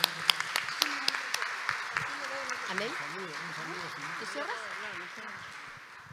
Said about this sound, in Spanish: un fuerte aplauso para todas nuestras panelistas del día de hoy